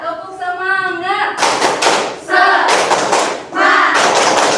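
A school class performs the rhythmic 'tepuk semangat' clap in loud, synchronized bursts of hand claps, alternating with children's voices chanting between the clapping groups.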